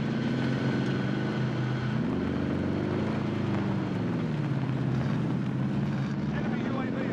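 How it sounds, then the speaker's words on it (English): A recon aircraft in Call of Duty Warzone passes overhead with a steady droning engine roar that slowly rises and shifts in pitch, remaining loud and continuous throughout. "Request recon flyover."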